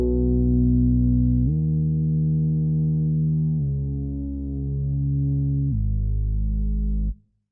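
Synth bass in a Cubase project run through chorus, compressor, EQ and exciter inserts, holding four long, thick sustained low notes with a slightly wavering fuller tone before stopping abruptly.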